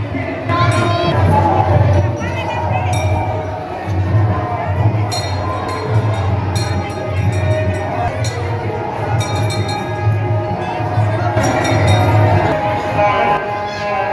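A dense crowd mills through a large eleven-day temple fair in Chhattisgarh, a steady murmur of many voices with children's chatter and scattered clinks rising over a constant low hum.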